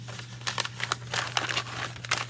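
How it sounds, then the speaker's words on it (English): Paper being crumpled into a ball by hand for a clay slab form, close and fairly quiet, with irregular crinkling bursts over a steady low hum. "You're gonna crumple the paper like this."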